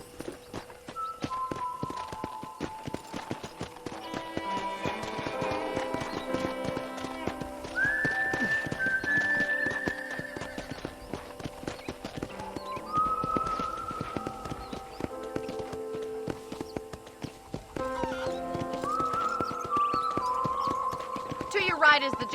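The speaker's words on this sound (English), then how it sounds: "let's see if you can still ride a horse" Horse hooves clip-clop at an easy walking pace, steady and close, while a voice talks over them with music in the background, in the video game Red Dead Redemption.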